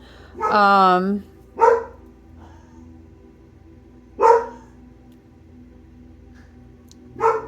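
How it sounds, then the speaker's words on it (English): A few sharp dog barks come in separate bursts with long pauses between them, fairly close and moderately loud. "sorry about the dogs"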